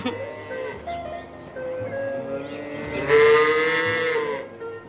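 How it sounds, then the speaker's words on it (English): Cows coming down a country lane moo in long, drawn-out lowing calls, with a louder, fuller moo rising midway before fading. "Oh, Dexter, the cows are coming down our lane."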